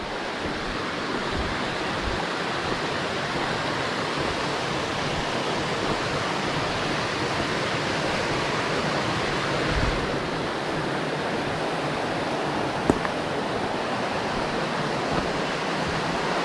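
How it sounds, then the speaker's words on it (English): A small stream in Petit Jean State Park canyon rushing over rapids, a constant broad close wash of water with no voices. "It's a cool little stream that runs over here though. I mean, nothing like a nice soothing bit of rapids for your nature walk."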